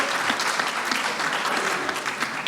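Steady applause from a hall audience at a union congress, many hands clapping densely and continuously at close range, without pauses.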